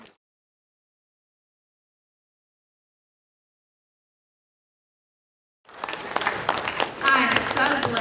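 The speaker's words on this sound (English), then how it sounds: "Let's give him a round of applause." Audience applause at a 2019 criminal law review lecture breaks out suddenly after several seconds of silence, then stays loud and dense to the end, with a few voices mixed in.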